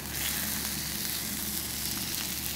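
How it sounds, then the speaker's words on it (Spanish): Rack of lamb chops searing in a hot pan, a steady, close, even sizzle of fat and meat that holds alone with no voices throughout. "Hacemos cocinar nuestro cordero por unos 6-7 minutos, girándolo por todos los lados."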